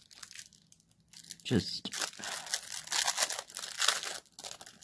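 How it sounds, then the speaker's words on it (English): Bubble wrap packaging from a stamped cross stitch kit crinkles and tears close by in irregular bursts, mixed with rustling handling noises and some talk. "I wish they wouldn't put it in bubble wrap."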